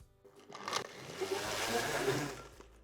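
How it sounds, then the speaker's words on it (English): A blender whirs steadily as it mixes a cocktail, a muffled motor drone building after a short start and running on to the end, fairly close with no talk over it. "Put the lid on and start blending."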